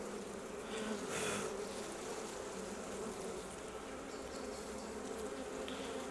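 Honeybees buzz around an open beehive during an inspection, a soft continuous hum of many insects close by, with a couple of louder passes near the listener.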